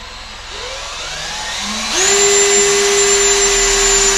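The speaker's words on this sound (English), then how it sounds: "I'm going to go ahead and mark these bottom holes and we'll get those drilled" A power drill spins up to a steady, high whine as it bores mounting holes for a tag bracket on a 2024 Road Glide motorcycle, loud and close over a constant background hum.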